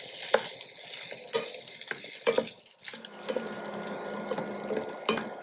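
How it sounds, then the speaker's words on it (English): Cauliflower florets sautéing in a pan for a South Indian stir fry, a steady frying hiss broken by a few sharp scraping stirs and clinks, moderately close with no talking. "Now add in the drained cauliflower florets. Now saute this for 10 minutes"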